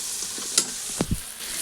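Spice masala with red chili powder sizzles in a pan for a biryani, a steady frying crackle close up, broken by a few sharp scrapes and knocks as a spoon stirs it.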